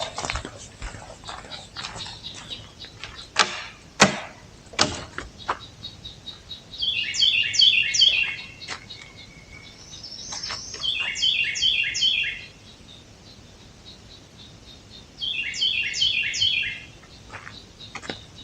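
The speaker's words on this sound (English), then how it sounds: "That bird is in my bike." Small birds chirp from inside a parked motorbike behind the cowling near the fan at a camping spot, with bursts of rapid high twittering in three clusters between scattered knocks and rustles, and no talk.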